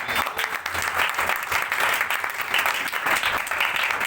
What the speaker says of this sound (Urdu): آئیے خدا کے جلال کے لیے ہم زوردار تالیاں بجائیں گے